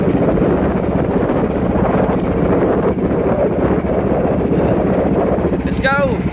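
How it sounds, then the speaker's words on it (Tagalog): Strong wind roars steadily across the microphone, a loud continuous buffeting rush with a brief whistling sweep near the end. "medyo may simoy ang hangin"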